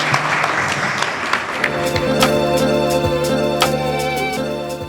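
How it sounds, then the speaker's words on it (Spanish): Live audience applause at the closing event of the Guate Diversa e Inclusiva programme for the invited guests, loud clapping that gives way to background music with sustained tones. "al público les pedimos un aplauso para nuestras invitadas"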